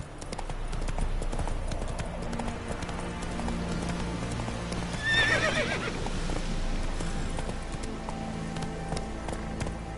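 Roach the horse gallops in a video game with quick, steady clip-clop hoofbeats throughout and a loud neigh partway through, all close and continuous.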